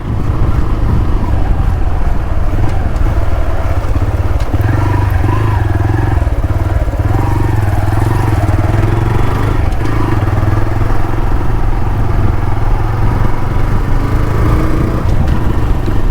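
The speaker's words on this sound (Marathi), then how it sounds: "चेन सेटचं काम केल्यामुळे गाडी ना पिकअप घेता फास्ट एकदम बऱ्यापैकी" A motorcycle with a newly fitted chain set, ridden along a road through the Kudal market area in Konkan, its engine droning steadily and loudly up close with wind buffeting and rising pitch as it picks up speed.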